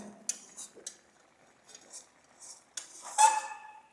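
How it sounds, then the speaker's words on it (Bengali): A spoon stirs a sandesh mixture of milk and melting sugar in a pan, producing quiet, scattered scrapes and metallic clinks separated by near-silent gaps, with a brief louder scrape near the end. "নাড়াটা বন্ধ করবে না একবারে নেড়েই দিতে হবে এটা"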